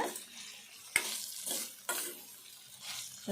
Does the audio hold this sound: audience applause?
no